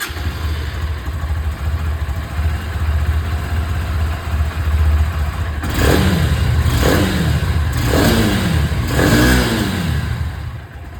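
Honda Hornet 2.0 motorcycle exhaust, a steady engine drone that rises into four rhythmic revs, each swelling and falling back, loud and close with no talking.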